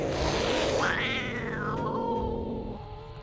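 Several cats in a crowded room give loud, drawn-out meows and snarling wails over a few seconds, close by and with no talking.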